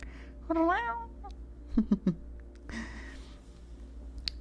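A woman imitates a cat, giving a drawn-out rising meow followed by a few short chirpy mews and a soft breathy purr-like rasp, close and fairly quiet.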